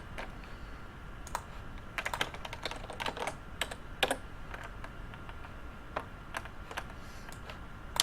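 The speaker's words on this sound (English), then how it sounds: "This is just an older Dell keyboard that I'm using right now, actually." Someone types on an older Dell computer keyboard, with irregular bursts of clicking keystrokes, some clustered and some isolated, close and fairly quiet over a faint background hiss.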